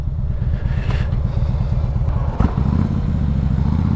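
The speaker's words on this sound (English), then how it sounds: "And here we are riding in the wet on a heavier bike than I'm used to." A heavy Harley-Davidson Street Glide motorcycle riding on wet roads, its engine drumming steadily and loudly up close, with rumbling wind and road noise and a single thump midway.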